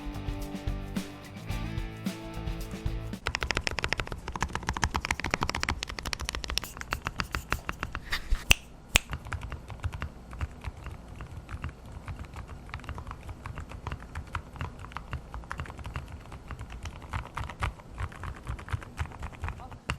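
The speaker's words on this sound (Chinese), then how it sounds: "这个打字声音呢就像你把键盘套上一个棉被一样" Typing on a mechanical keyboard fitted with silent JJ linear switches gives a steady run of soft, muffled keystrokes in quick irregular patter, close up. After a brief tonal passage at the start, the keys continue alone.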